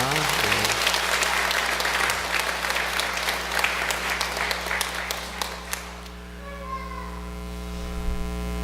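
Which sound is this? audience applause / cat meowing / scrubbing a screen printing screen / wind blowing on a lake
audience applause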